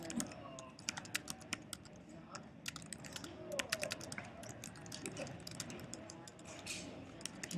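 Fingers tap steadily on a computer keyboard in quick irregular clicks, close and fairly quiet, with a faint low background murmur.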